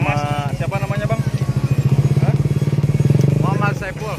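A Honda CRF 150 motorcycle engine runs loud and close with a steady, pulsing throb while riding, as people talk over it.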